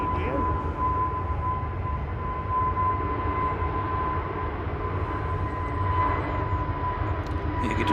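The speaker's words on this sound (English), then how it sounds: "Shuttle 3 Mike departing to Heathrow now" An Airbus A320neo departing Manchester Airport, its engines a steady, loud broadband roar throughout with a sustained tonal whine, with no spoken words.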